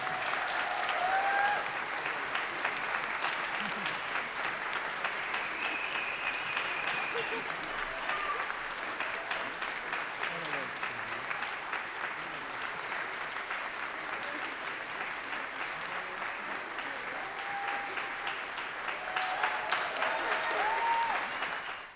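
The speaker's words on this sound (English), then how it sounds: "please give them all a round of applause for being amazing." An audience at a concert delivers a long, sustained round of applause, loud and dense clapping from many hands lasting over twenty seconds, with scattered cheers and voices rising within it and a swell near the end.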